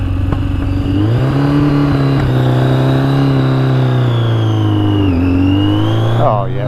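A vehicle engine with adjusted carburetor jetting revs steadily under drive power on a slope, a loud continuous drone that holds its pitch, dips slightly near the end, then tails off.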